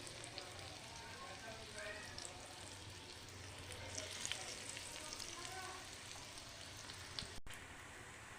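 Small prawn fritters (kucho chingri bora) sizzle and crackle steadily in hot oil throughout, a continuous close frying hiss with occasional pops and a faint voice in the background.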